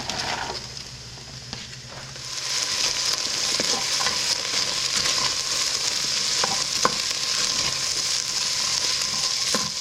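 Onion, celery and carrots sizzle and fry in a stew pot, a steady hiss rising after a couple of seconds with occasional stirring clinks and scrapes, close and continuous.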